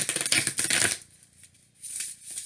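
Close, crisp riffle of cards being shuffled, a rapid flurry of slaps, then a pause and a second softer shuffle.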